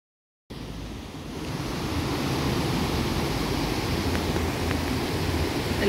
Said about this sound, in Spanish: El río Cali.